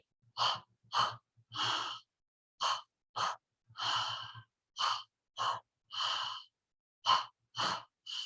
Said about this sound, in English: I follow my breath in. I follow my breath out.